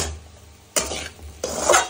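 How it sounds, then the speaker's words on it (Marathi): Spoon stirring salt into poha in a metal pan, two distinct scraping clatters of utensil against pan over a quiet background, close by with no speech. "मीठ मिक्स करून घेऊयात पोह्यामध्ये"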